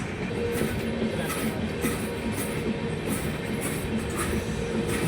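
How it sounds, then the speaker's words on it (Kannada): A DEMU train running from Mayiladuthurai to Salem passes close by with a continuous loud rumble of wheels and carriages, steady from start to finish. "ಇದು ಬಂದ್ಬಿಟ್ಟು ಮಯಿಲಾಡುತುರೈ ಟು ಸೇಲಂ ಹೋಗುವಂತಹ ಡೆಮೋ"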